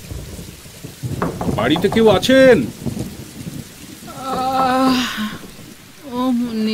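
A night thunderstorm with heavy rain pours steadily while thunder rumbles low, and a man calls out and two voices speak over the downpour.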